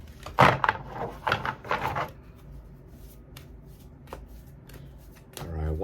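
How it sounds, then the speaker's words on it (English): Tarot cards shuffled in a few brisk, loud bursts up close, followed by scattered softer taps and a short rustle at the end. "All right, one more shuffle."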